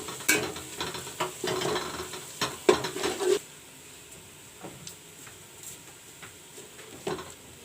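Brown fried onions scooped out of a pan in hot oil, a burst of close scraping and clinking spoon strokes over a soft sizzle, then quieter sizzling with a few scattered scrapes.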